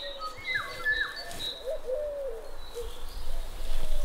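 Several birds call at a forest nesting site at the start of the breeding season, giving short repeated chirps and whistles at moderate distance over steady background hiss.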